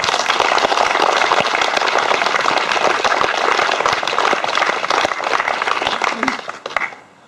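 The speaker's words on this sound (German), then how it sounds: "wir begrüßen ihn alle sehr, sehr herzlich mit einem kräftigen Applaus" An audience in a lecture hall claps loudly and steadily for several seconds, a dense, even applause that fades out at the end.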